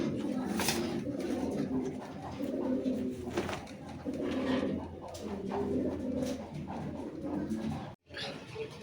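Lahori pigeons at a farm coo steadily in soft, rolling, overlapping calls, close and continuous over a low background, with a brief break near the end.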